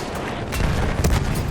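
A tank in the Battlefield 1 video game firing at the player, heard as loud, close, heavy blasts and rumbling booms under constant battlefield din.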